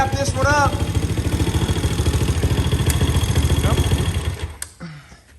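Honda CL70 motorcycle fitted with a Piranha 140cc engine running with a fast steady thumping idle and some clatter, close and loud, before it cuts off near the end.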